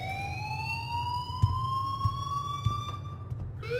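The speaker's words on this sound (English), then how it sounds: "Leave Miss Caulfield alone and please turn off that alarm since that's your job." In the video game Life is Strange, an alarm wails with a rising, siren-like tone held steadily throughout, over a low rumbling hum and a few dull thumps.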